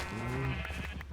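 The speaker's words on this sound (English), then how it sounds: "Cows are so loud." A Minecraft cow gives one loud, drawn-out low moo that tails off into rustling game noise, close and alone without talk.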